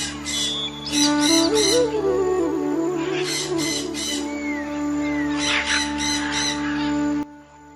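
Crows caw in loud, repeated bursts near a lakeside park at Subhash Lake, with smaller birds chirping between the calls under a steady background hum.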